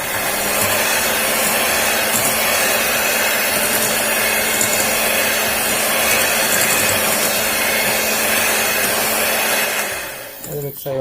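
Electric beater whirring steadily through cake batter with vegetable oil for a white forest cake, a loud continuous motor drone that holds for about ten seconds before slowing and stopping with a few clunks.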